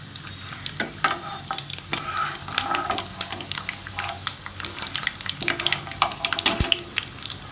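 Dried red chillies fry on a low flame in a pan, giving a continuous close sizzle broken by frequent scraping and clinking of a stirring spoon.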